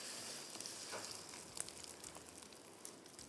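Egg omelette frying over full high heat for egg fried rice, giving a steady soft sizzle with faint crackles throughout, fairly quiet and with no talking.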